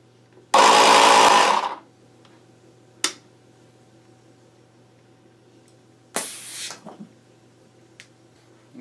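A large flat tire being inflated with air, a loud hissing burst of roughly a second followed by a short click and a second weaker hiss later, with quiet gaps between.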